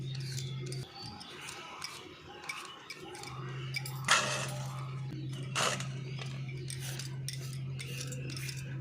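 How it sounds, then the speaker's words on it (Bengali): A knife scrapes peel from raw potatoes in a home kitchen. Soft, irregular scraping clicks and light knocks sit close by over a low steady hum, with no talking. "প্রথমে আমি আলুগুলো খোসা ছাড়িয়ে নিচ্ছি"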